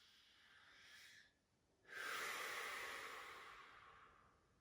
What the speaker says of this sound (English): Just take a few natural breaths.